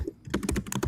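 Rapid typing on a computer keyboard, close and fairly loud, a quick burst of clicking keystrokes in an uneven rhythm.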